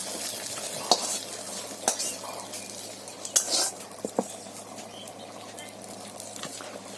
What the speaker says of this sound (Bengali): আর তেলানি দেওয়ার জন্য তেল আর পেঁয়াজ একটু ভেজে নেবে